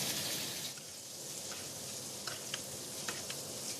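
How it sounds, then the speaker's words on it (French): Butter foaming and sizzling in a pan over lowered heat, a soft steady hiss with faint crackles and small pops, quiet and close with no talking. "Vous voyez tout de suite le beurre, il va mousser."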